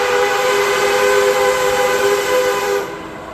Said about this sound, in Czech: Přijíždí legendární souprava metra, která nás sveze po prvním úseku trasy 1B.